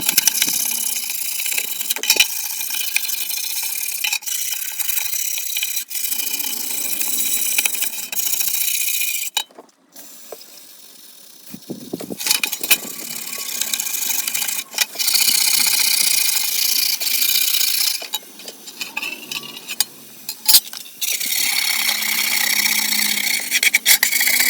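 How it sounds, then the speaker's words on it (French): A wire brush scrubs clinging rust off a part from an MGB GT V8 under restoration, a close, loud, continuous rasping scour that runs steadily with one brief pause midway. "Je vais mettre un petit coup de brosse métallique pour enlever la rouille qui est encore accrochée."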